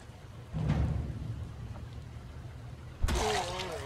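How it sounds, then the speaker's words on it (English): Rain in the survival video game Project Zomboid, a soft hiss of falling rain with low rumbling swells, faint and distant, rising noticeably in the final second. "Starting to rain now."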